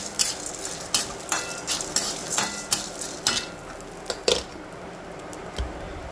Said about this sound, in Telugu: కొంచెం శనగపప్పు యాడ్ చేసుకోవాలి. పచ్చిసెనగపప్పు అంటాం కదా అది. సో ఇది బాగా ఫ్రై అవ్వనివ్వాలి